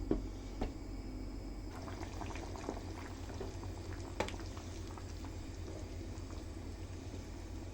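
Whole wheat pasta simmering in a pot of water with the lid on, a soft continuous bubbling with occasional faint clinks, fairly quiet and without talk.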